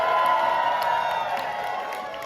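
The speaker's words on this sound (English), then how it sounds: "can we get a massive cheer for the entire cast of Suck You Cycle 4" An audience cheers loudly for the cast of a drag competition show, a dense, sustained roar of whoops and shouts filling the whole moment.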